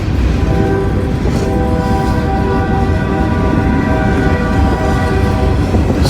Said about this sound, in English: Check out the locomotives on the head of this one.